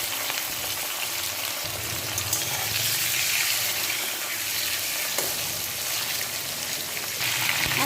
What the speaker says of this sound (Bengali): এবার মেখে নেওয়া মাংস ভাজি করব